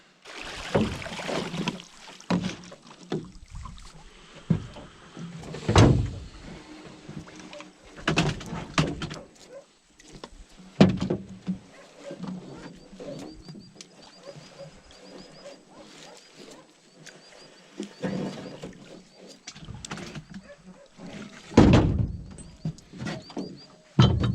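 A small fishing boat motors onward to check longlines, its water-lapping drone steady and close, with scattered knocks and thumps of gear against the hull and a few louder bumps.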